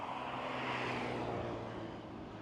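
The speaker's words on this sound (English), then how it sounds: "think that's a Porsche GTRS. Not sure what year. Sounds beautiful." A Porsche GT RS sports car engine roars past on a street, a loud, steady broadband rush that swells and then eases slightly as it moves away.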